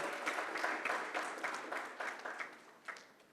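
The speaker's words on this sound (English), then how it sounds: "A big round of applause for him." Audience applause at the inaugural session of a conference, greeting the president as he is introduced on the dais; moderate, steady clapping from a seated crowd that gradually thins out over a few seconds.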